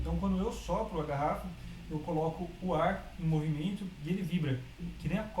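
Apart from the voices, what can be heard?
No distinct noise like a dog, phone or traffic.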